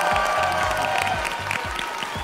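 Audience applause at a Vietnamese television game show, steady dense clapping from a crowd throughout, close and moderately loud.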